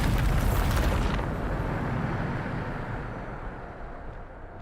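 A Bombarda spell blast in the Hogwarts Legacy video game: a loud, broad explosive roar that bursts at once, then rumbles and slowly fades over several seconds, with no talking.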